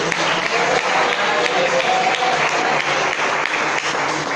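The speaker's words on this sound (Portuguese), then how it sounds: "Quem vai fazer palmas na glória de Jesus?" A congregation claps during a church sermon, a loud, dense, continuous roar of applause from many people filling the room without a break.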